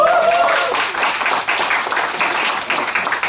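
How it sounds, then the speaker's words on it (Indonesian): An audience at a sales training seminar bursts into dense, continuous clapping that fills the room, loud and close throughout. "Bisa nggak? Tepuk tangan dong."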